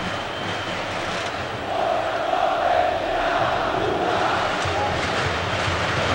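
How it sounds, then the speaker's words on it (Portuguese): Flamengo supporters roar steadily in a packed stadium during a 2002 Vasco versus Flamengo match, a dense, far-off wall of crowd noise that swells slightly midway and holds constant to the end. "Está aí a torcida do Flamengo."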